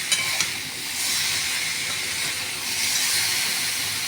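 Salt being stirred into a pan of food already frying, with a steady loud hiss and sizzle running throughout and a couple of brief scraping knocks near the start.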